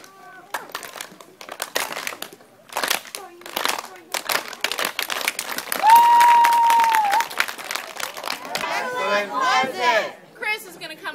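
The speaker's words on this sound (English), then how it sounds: "you're going to clap like this." Children at a summer camp clapping with rubber bands looped around their hands around a campfire, a crowd of sharp irregular claps and crinkly snaps mixed with chatter, a short tonal squeak, and voices talking throughout.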